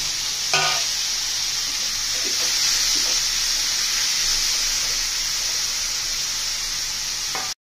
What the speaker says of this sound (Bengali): এবারে আলুগুলো আমি একটু ভেজে নেব।